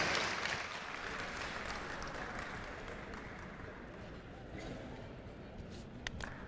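Faint, distant applause from an audience at the Robocon 2023 national robot contest in New Delhi rolls on steadily for several seconds as a cheer for the event volunteers, with a crowd murmur beneath.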